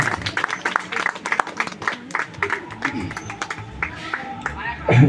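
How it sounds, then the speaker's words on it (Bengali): Scattered clapping from a small group at a picnic medal presentation, uneven and moderately loud, with some voices mixed in. "তাদের জন্য একটা জোরে হাততালি"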